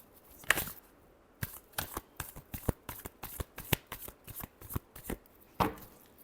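Tarot cards are shuffled by hand at close range, a quick run of crisp riffling snaps and soft slaps in an irregular rhythm, heard alone without talk.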